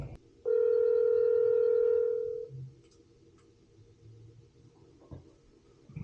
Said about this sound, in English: Okay, quickly give Walter a call.